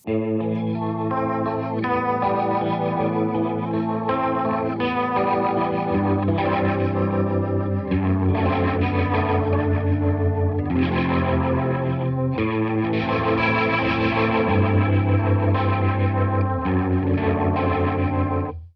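An electric guitar played through a Fender overdrive pedal, drive setting changing, gives sustained chords and riffs with gritty, chorus-tinged distortion, loud and continuous throughout.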